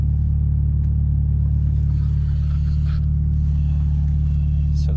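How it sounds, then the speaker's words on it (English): A Volkswagen GTI with a check engine light fault idles steadily, a loud, even low rumble that holds without change for several seconds, with faint clicks and shuffling in the background and no talking. "So the car's running."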